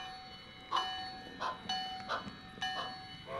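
An old passenger train at a railroad terminal gives off rhythmic clanking and knocking with a steady tonal ring, heard at moderate distance with no talking.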